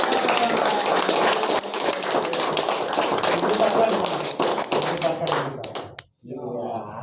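A crowd claps hands loudly and steadily at an installation ceremony in Banyuwangi, a dense continuous patter that thins into a few scattered claps and stops near the end, with voices speaking over it.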